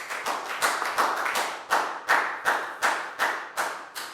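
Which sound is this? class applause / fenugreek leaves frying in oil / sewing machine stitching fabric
class applause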